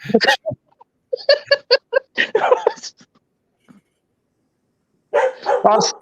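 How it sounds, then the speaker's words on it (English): A dog gives several sharp barks in short bursts, fairly close, with gaps of quiet between them. "Ross, I've muted you until the dog stops"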